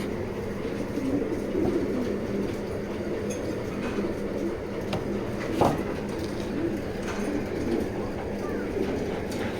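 Racing pigeons coo softly and steadily in a loft, with low murmuring calls under a constant background rumble.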